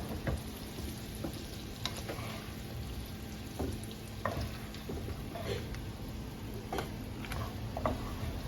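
Vegetables sauté in a pan with a steady, soft sizzle while a utensil stirs them, producing scattered clicks and scrapes against the pan over the quiet frying hiss.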